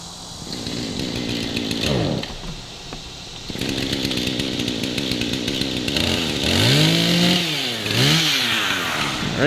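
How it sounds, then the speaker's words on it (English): A chainsaw cuts a notch into a standing tree before felling, revving loudly and steadily with rising and falling engine pitch as the chain bites and eases off, close to the listener with no talk over it. "Alright, he's got the chainsaw going."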